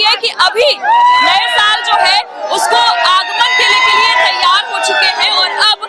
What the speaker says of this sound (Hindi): हूटिंग जो आपको ये सुनाई दे रही है ये लखनऊ वालों की आवाज है